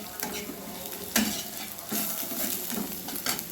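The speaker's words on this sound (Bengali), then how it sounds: "আমি ভেজে নেব।" Rohu fish frying in a pan for a spicy curry, with a steady loud sizzle of hot oil under scraping stirs and clinks of a utensil against the pan, no talking.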